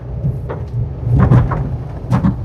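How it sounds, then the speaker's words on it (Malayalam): Heavy rain pours down in a loud downpour, with rough rumbling surges and gusty bursts rising and falling over a steady wash; no one speaks. "ഒരു രക്ഷയില്ലാത്ത മഴ"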